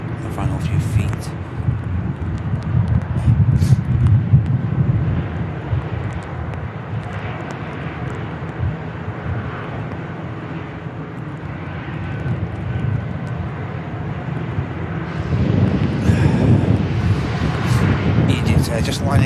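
An EasyJet airliner goes around after an aborted final approach at Manchester Airport in stormy weather, a steady broad jet engine roar rising again toward the end, with wind buffeting the microphone and someone talking over it.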